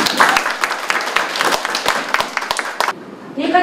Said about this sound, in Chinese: 所以我们给自己掌声好不好？